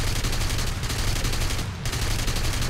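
Aircraft cannon fire in a flight combat video game, a dense, continuous rapid stream of loud gunfire with one brief pause before the burst resumes.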